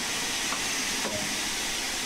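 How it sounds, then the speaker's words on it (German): Steam hisses steadily from the cylinder cocks of an LMS Stanier Class 8F steam locomotive in Train Sim World 2, a loud continuous broadband rush with faint clanks underneath. "öffnen Sie die Zylinderhähne, um jegliches Wasser aus den Zylindern auszulassen"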